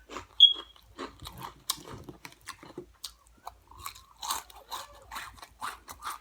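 Flamin' Hot chipotle ranch Cheetos crunched close to the mic in a mukbang, with a series of sharp bites and chewing crunches in an irregular rhythm and a brief squeak near the start.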